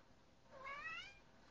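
A cat gives a single clear, rising meow, fairly faint and alone against a quiet background.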